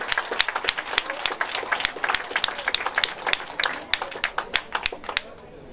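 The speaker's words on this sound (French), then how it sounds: "Allez, vos applaudissements s'il vous plaît pour Christopher Piri." A crowd at a stage finish of the Circuit des Ardennes cycling race claps and applauds in dense, sharp bursts that taper off toward the end, with background voices mixed in.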